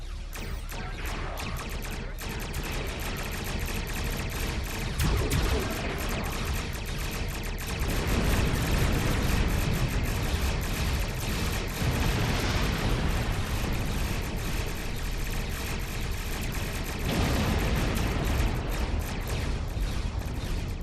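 Starship weapons fire and explosions in a Star Trek Online space battle against Klingon attack ships, a dense, continuous roar of blasts and booms with heavier surges throughout, loud and steady with no talking.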